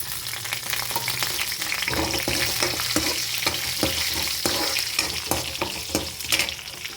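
Dried red chillies frying in hot oil with cumin seeds, a continuous close crackling sizzle broken by repeated scraping clicks of a stirring spoon against the pan.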